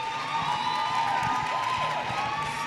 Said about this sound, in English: Can we give Marcia a round of applause,